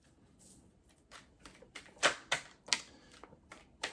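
Crisp papery flicks and snaps of tarot cards being shuffled, irregular bursts with a few sharper slaps, close and fairly quiet.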